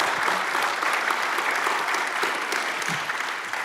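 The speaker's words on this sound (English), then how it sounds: "Let's have a round of applause for this group of panelists." Sustained audience applause for a panel at a community forum on gun violence, dense and steady clapping from a crowd throughout, fairly even in loudness with no voices standing out.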